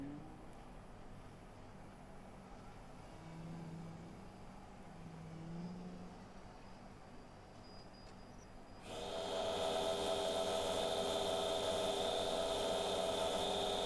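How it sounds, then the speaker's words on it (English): Quiet workshop sounds give way to a sudden loud, steady roaring hiss of a blowtorch flame lightly scorching a bog oak bowl, continuing to the end. "So I'm just putting a bit of colour on with the blowtorch,"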